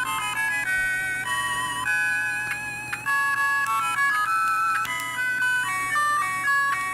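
Music from the Columns game on a Sega Game Gear plays as bright, tinkly chiptune melody notes over a steady low drone, continuous and fairly loud.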